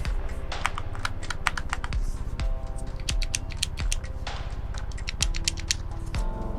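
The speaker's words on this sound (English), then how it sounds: "Got nice big old clicky buttons right there." Big clicky buttons on an Oculus Quest 2 controller pressed over and over, crisp close-up clicks in a quick irregular rhythm, with no talking.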